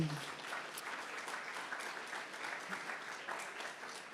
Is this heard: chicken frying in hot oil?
no